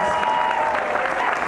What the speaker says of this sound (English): Everyone give another round of applause